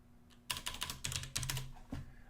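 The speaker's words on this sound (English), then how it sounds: "And now if I type cobc" Computer keyboard keys tapped to type a terminal command: a quick burst of about eight close, crisp clicks over roughly a second and a half, no voices.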